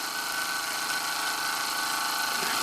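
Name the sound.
old Ernest Plank upright steam engine running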